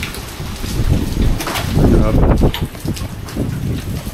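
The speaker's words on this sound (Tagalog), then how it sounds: "may rinig na po yung lakas ng hangin at ulan" Strong typhoon wind and rain during Typhoon Uwan in Daet, Camarines Norte, roar through an opened door as a dense, rushing wall of noise with gusty swells, while a person briefly speaks over it.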